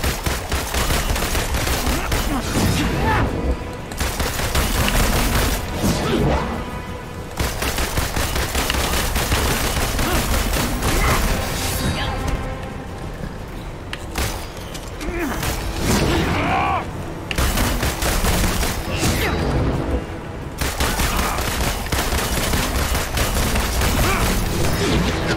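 Iron Man firing in the Avengers video game: loud, nearly continuous blasts and booming impacts pile up over dense game noise, with brief dips between heavy volleys.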